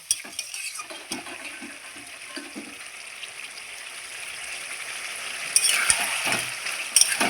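Drumstick and squash curry being stirred in a pan, with soft scraping and gentle sizzling, steady and close, a couple of sharper clinks of utensil against metal near the end.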